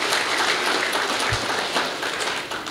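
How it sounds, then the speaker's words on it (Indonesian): Loud, sustained audience applause for the teachers at a Quran memorization graduation at an Islamic boarding school, a dense steady wash of many hands clapping together throughout. "saya minta tepuk tangan yang meriah untuk para ustadz."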